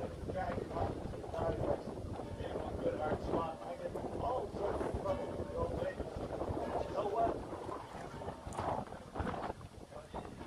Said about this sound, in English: Nice windy day here.